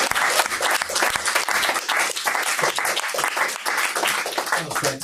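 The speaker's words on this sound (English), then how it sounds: "Yes. Please, applause." Loud, enthusiastic audience applause at a talk with Sadhguru and James Fauntleroy at 1500 Sound Academy, dense continuous clapping throughout with a few scattered voices mixed in.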